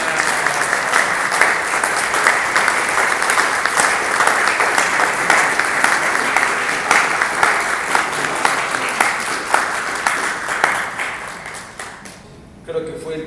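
An audience at a conference in Córdoba applauds to welcome speaker Nicolás Márquez, a loud, sustained burst of clapping that gradually thins and fades near the end.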